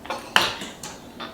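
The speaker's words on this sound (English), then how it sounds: "I'm gonna whisk it" A whisk clinks against a bowl several times in an irregular rhythm while banana muffin batter is mixed. The taps are close and crisp, with a quiet pause between strikes and no talking.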